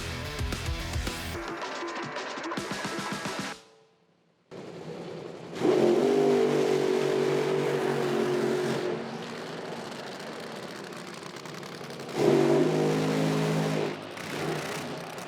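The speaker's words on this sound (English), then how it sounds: "Semifinals in Fuel Funny Car." Nitro Fuel Funny Car drag racing engines at an evening IHRA Outlaw Nitro semifinal in Hebron, roaring loud with a long sustained blast, a brief near-silent gap, then another thunderous pass and a short final burst.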